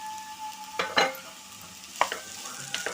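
Potato kachori filling mixed with chaat masala in a pan: a few scattered spatula scrapes and taps over a faint, steady sizzle.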